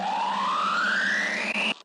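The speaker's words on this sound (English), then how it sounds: "pitched up, it's an electrical sound" A steady electrical buzz with a tone that sweeps upward for under two seconds, then cuts off abruptly, like a game weapon powering up.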